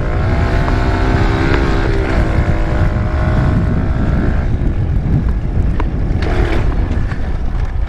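A pit bike engine runs loud and close with heavy wind buffeting on the microphone, a rough droning whine that wavers in pitch as it revs.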